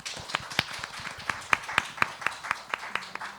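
Sparse, evenly spaced hand claps ring out at a student presentation event as the presenter is welcomed, a sharp, rhythmic beat of a small group rather than a full roar.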